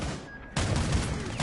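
A burst of gunfire from the Rainbow Six Siege video game, a sudden loud rattling volley that breaks in after a brief quieter moment and keeps rolling to the end.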